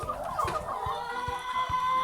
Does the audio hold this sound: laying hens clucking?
yes